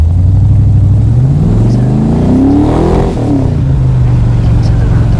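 A 490-horsepower car engine revs loudly and close, its pitch climbing and falling in a long continuous roar.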